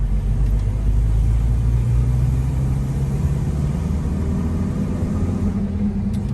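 A car with a manual transmission pulls away as the clutch is let out slowly, its engine a steady low rumble that holds close and continuous throughout with no talking.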